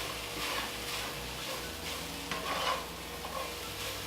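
Spices being stirred into oil-free hash browns in a pan, a steady soft scraping and faint sizzle with a few louder stirring strokes, no talking.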